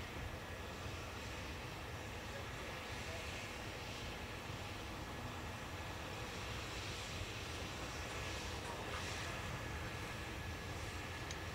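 A KLM Boeing 737-800 taking off at Dublin Airport, heard as a steady broadband engine roar at a distance, continuous and fairly faint with wind-like rumble.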